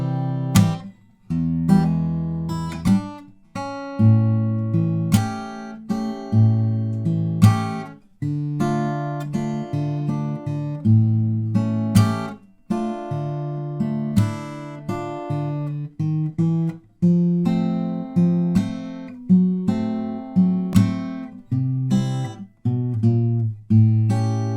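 Acoustic guitar playing the intro of a song, a bluesy fingerpicked passage with a steady rhythm, bass notes under plucked chords, played alone.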